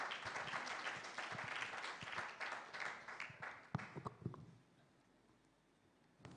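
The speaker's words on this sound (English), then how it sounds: "Once more, please give applause to him" An audience claps together at the plenary and closing session of the 3rd ICEF conference, a dense, sustained applause that thins into scattered claps and fades to quiet room tone after about four seconds.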